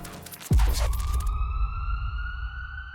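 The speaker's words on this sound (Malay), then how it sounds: "Bunyi sayup siren ambulans" An ambulance siren wails as a steady, sustained tone after a brief low thump, set against a rumble of road and vehicle noise, heard alone with no speech.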